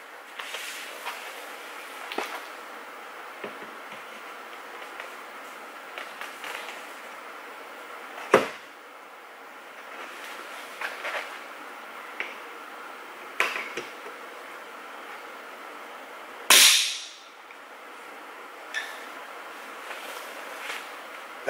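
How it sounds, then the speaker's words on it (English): Pop rivet gun setting a rivet on a C8 Corvette, giving a few sharp snapping pops and squeeze clicks spaced apart, with one louder crack near the end over faint background hiss, no talk. "It's a pop rivet gun with a rivet in it."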